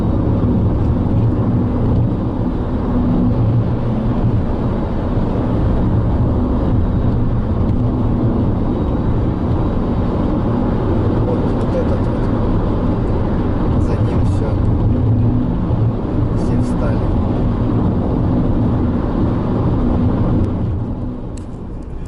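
A car drives along a bypass road during a long-distance road trip from Yakutsk to Krasnodar, a loud, continuous interior rumble of engine and tyre noise that holds steady for over twenty seconds and eases slightly at the end.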